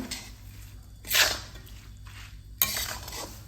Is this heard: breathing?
no